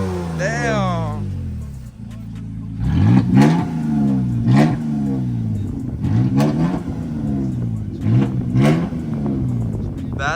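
A Toyota Tacoma fitted with an aftermarket Amazon exhaust revs repeatedly, its engine climbing and falling in rhythmic bursts close to the mic, loud and raspy, with people talking faintly under it.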